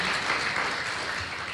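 Church congregation claps for God, a brief, fairly soft wash of steady applause with no voices over it.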